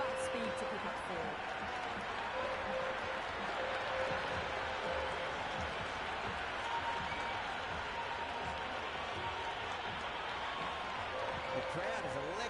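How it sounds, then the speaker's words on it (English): Stadium crowd in the cricket video game Cricket 26, during an India vs South Africa T20 warm-up in Mumbai, keeps up a steady roar of applause and cheering across the whole stretch, with commentary talking over it. "The crowd is electric right now."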